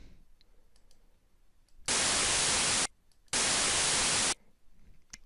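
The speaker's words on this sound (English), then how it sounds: "Here's a sound pressure waveform of an aperiodic noise sound." Two loud, even bursts of aperiodic broadband noise, each about a second long with a brief gap between, stand out against a quiet background.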